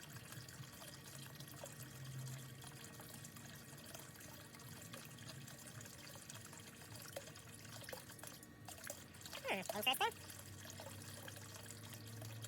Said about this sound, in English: Still seems to be flowing quite a bit of water here.